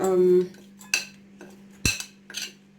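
Garlic and ginger prawn stir fry being mixed in a pan, a few distinct metallic clanks and scrapes of a utensil against the pan spaced about half a second apart, close and clear over a faint hum.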